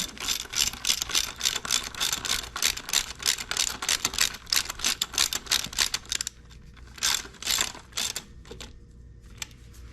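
A ratchet wrench tightens bolts on a 200-4R automatic transmission, giving fast, rhythmic metallic clicking in close, quick bursts that stops briefly and then resumes more sparsely.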